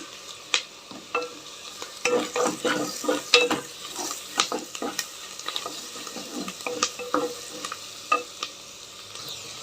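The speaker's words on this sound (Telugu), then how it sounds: "ఇప్పుడు ఇందులో కొంచెం పసుపు లిటిల్ బిట్ పసుపు వేస్తున్నా" Turmeric added to hot oil for dal khichdi, sizzling with frequent clattering stirring strokes of a spoon against the pan, close and busy over several seconds.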